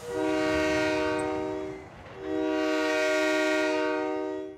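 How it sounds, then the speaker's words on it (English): A train horn blasts twice at close range, each a long, loud, steady multi-tone blare, separated by a brief pause. "I've never heard a horn as loud as that"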